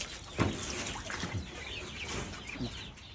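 Chickens cluck a few times amid a noisy outdoor farmyard background with chickens and ducks, the calls short and scattered.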